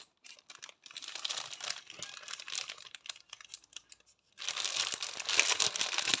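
Large-format cross-stitch canvas being unwrapped from its plastic packaging, with close, fitful crinkling and rustling that pauses briefly and then returns louder and more continuous.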